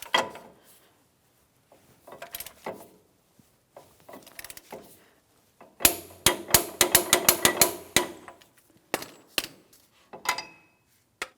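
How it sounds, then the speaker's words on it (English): A torque wrench tightens the front axle nut on a 2007-2014 GMC Sierra 2500 HD to 188 foot-pounds, with sharp metallic clicks and ratcheting bursts broken by short pauses, densest in the middle. "I'm going to torque this to 188 foot-pounds"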